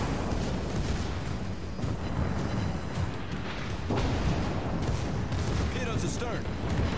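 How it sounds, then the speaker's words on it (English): Naval guns of a warship in World of Warships fire a high-explosive salvo, a dense rumbling barrage of heavy booms under steady background battle noise, with a sharper blast partway through. "So I am going to actually launch a HE salvo on your ass."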